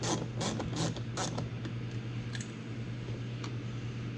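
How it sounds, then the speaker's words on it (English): A ratchet driving a T20 bit to remove a bolt on a 2019-2021 Ford Ranger, rapid clicking bursts at first, then quieter scattered ticks over a constant hum. "So we're going to grab our T20 and our ratchet. We're just going to take this bolt out."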